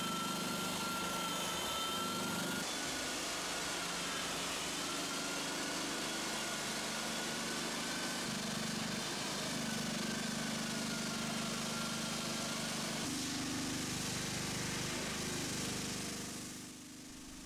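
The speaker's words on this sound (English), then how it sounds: "so another sander is used instead" Floor sander working across a hardwood floor, a loud continuous rough grinding drone with a low rumble that holds steady throughout and eases off at the end.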